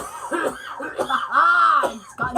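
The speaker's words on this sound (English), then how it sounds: "Now he's coughing." A man coughs several times in rough, uneven bursts, loud and close, with a bit of throat clearing between them.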